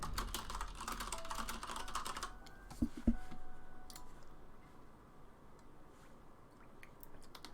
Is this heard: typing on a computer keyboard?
yes